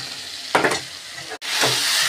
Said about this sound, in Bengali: এবার আমি ভাজা আলুগুলো দিয়ে দিচ্ছি।